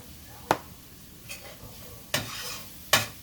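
A spoon stirs a few tablespoons of flour into braised beef in a pot: four separate scraping knocks against the pot, each short and close, over a faint background hiss.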